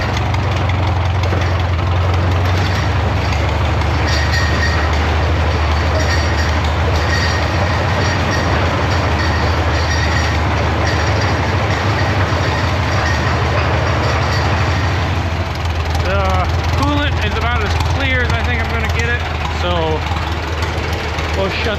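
A 1937 Caterpillar Twenty-Two crawler engine runs steadily with a loud, continuous low rumble and mechanical clatter, close up, with squeaky metallic chirps later on.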